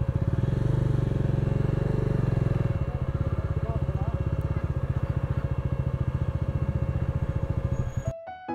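A motorcycle engine idles and putters steadily close by with a pulsing, even beat, then cuts off near the end as the bike is parked beside a gate at Tabo Monastery in Spiti Valley.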